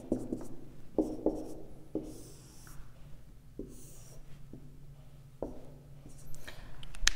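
A pen or marker sketching a graph by hand, with scattered scratchy strokes and taps, close and moderately quiet, with faint breathing and no speech.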